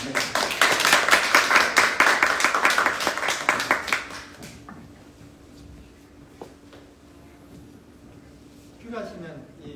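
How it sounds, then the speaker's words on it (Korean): An audience at a public talk on sustainable eco-friendly mobility claps for about four seconds, a loud dense round of applause that stops abruptly, followed by quieter room tone and a voice speaking near the end. "박수 부탁드립니다."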